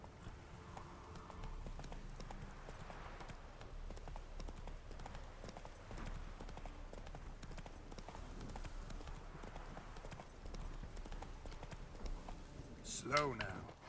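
Hooves of Geralt's horse Roach from The Witcher game clip-clopping in a steady fast gallop, continuous and close, with a brief game effect near the end.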